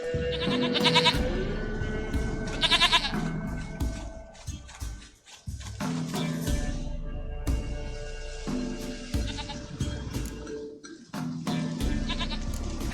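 A goat in The Witcher 3 video game bleats several times in short, wavering cries, close and clear over quiet in-game ambience, with pauses between calls.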